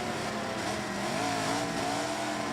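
A drag race car launches down the strip at National Trail Raceway, a steady, fairly quiet engine roar that holds for the whole stretch with no voices.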